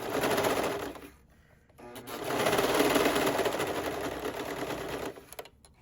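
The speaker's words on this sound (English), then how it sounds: "making sure that I'm serging on the inside of my neckline" A serger stitching a neckband onto a knit dress neckline: a steady, close mechanical whir that runs, stops briefly, then starts again for a longer continuous stretch before cutting off.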